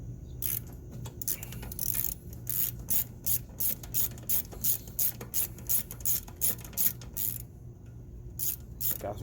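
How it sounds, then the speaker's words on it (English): A ratchet turns an Allen socket on the rear wheel of a Harley Davidson Road Glide, giving a quick run of evenly spaced close clicks. It comes in repeated rhythmic bursts with faint background hum. "I think this is an 8 Allen wrench with a socket"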